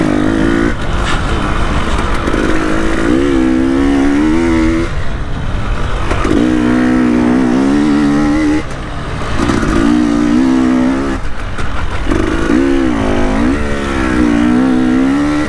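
An enduro motorcycle rides through solid ruts on a motocross-style track, its engine loud and close throughout, revving and dropping repeatedly as the throttle opens and closes, with clattering from the bike.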